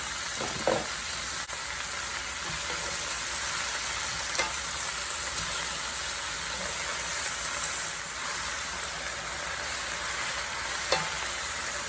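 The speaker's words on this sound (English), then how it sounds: "Fry for 10 or 20 seconds, then you can add the leaves." Water spinach sizzles steadily in a hot wok during a stir-fry, a continuous, bright frying hiss with a few faint clinks, close and alone.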